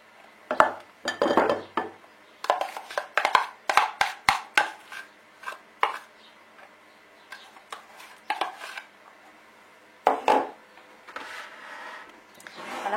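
Crushed blueberries and redcurrants are scraped and tipped into a bowl, producing a series of light clinks and taps of utensil against dish, irregular and close, with quiet gaps between.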